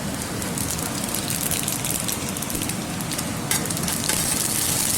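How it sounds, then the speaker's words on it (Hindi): Whole spices sizzle in hot cooking oil for a village-style carrot and potato curry, a dense, steady crackling hiss that stays loud and even throughout with no voices. "ऑयल हमारा गर्म हो गया, मैं इसके अंदर साबुत मसाले ऐड करने लगा हूँ"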